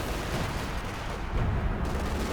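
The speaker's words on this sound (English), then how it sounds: "Artillery's coming in, but not really gonna do much." Incoming artillery fire in Company of Heroes 2 rolls as a dense, continuous rumble of distant booms and blasts, with no voices heard.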